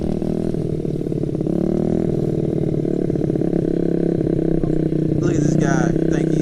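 Honda CRF50 dirt bike ridden by a young child, the small engine buzzing and revving loudly and steadily close by, with a person talking over it near the end.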